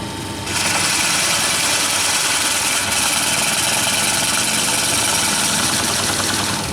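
The largest Drillpro Forstner bit bores into scrap wood, a loud, steady motor whine with grinding cutting noise starting after half a second and continuing evenly, close with no talk.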